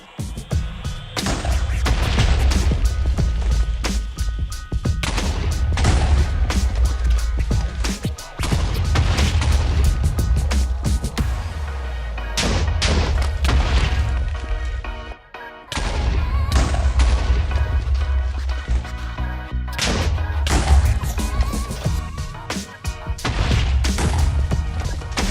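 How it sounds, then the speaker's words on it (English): Stacked TNT detonating in Minecraft, a relentless chain of loud, booming blasts packed closely together that roll on almost without pause for the whole stretch, dipping only briefly a few times. "I'll see what we can do with this stack of TNT that Agent A gave us"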